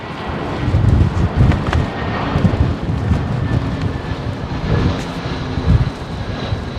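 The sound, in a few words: airliner taxiing at London Heathrow Airport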